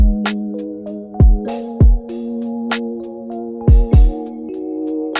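Dark pop R&B beat with live hi-hats, heavy kicks and sustained dark chords: crisp bright hat ticks over a steady low pad, booming kicks landing in irregular pairs, loud and close with no voices.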